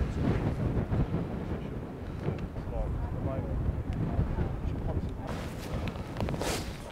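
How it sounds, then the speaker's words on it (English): Strong wind buffeting the microphone on a mountain crag above a small tarn, a loud continuous low rumble with gusty swells, while someone speaks over it. "It's too windy."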